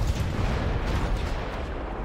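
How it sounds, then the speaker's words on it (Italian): Artillery from Kathmandu pounds a barbarian camp in Civilization V, producing a dense, loud rumble of overlapping booms that rolls on without a break. "Qui c'è l'artiglieria di Kathmandu che distrugge l'accampamento barbarico"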